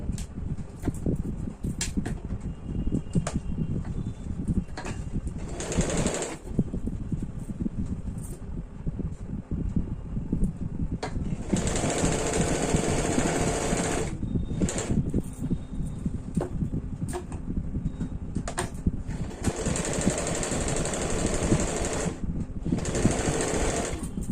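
A sewing machine stitches the darts of a deep-neck kurti, running in several sustained bursts of steady high whirring, with short pauses and a quieter motor hum between runs, close and loud with no voices.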